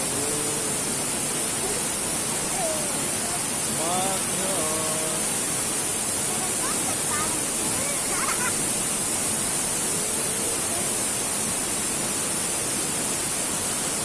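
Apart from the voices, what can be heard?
Segenter waterfall rushing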